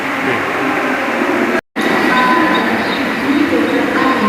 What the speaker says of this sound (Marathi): एसी ट्रेन येते आहे